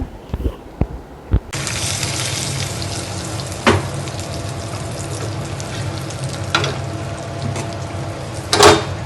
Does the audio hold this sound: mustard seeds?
yes